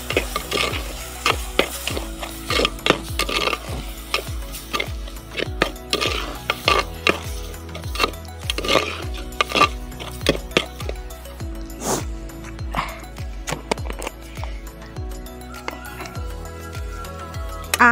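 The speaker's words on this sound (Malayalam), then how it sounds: "ഇനി ഇളക്കാം." Kerala-style squid roast with turmeric, chili, pepper and coriander powders being stirred in a pan: continuous close scraping and clinking of a spoon against the metal, with rhythmic strokes under a low sizzle.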